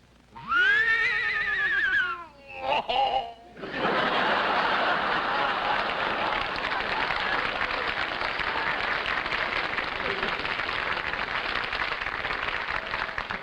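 Someone vocally imitating an English horse, a loud, wavering whinny lasting about two seconds with a short snort after it, then sustained audience applause and laughter.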